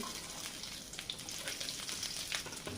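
Chopped green chili and onion sizzle steadily in hot oil in a pan, a dense crackling fry with faint stirring clicks, close and continuous with no talk.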